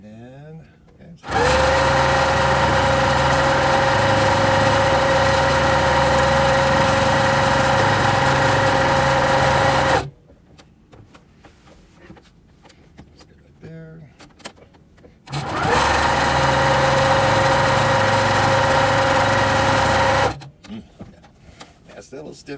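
A domestic sewing machine set up for regular quilting runs in two long, steady bursts of motorized stitching on a three-yard quilt, loud and close with a constant whirring hum, separated by quiet pauses.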